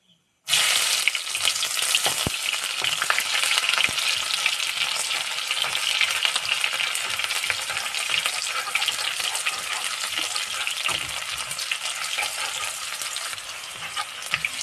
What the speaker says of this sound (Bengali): এখন কেটে রাখা পেঁয়াজগুলো দিয়ে দেবো।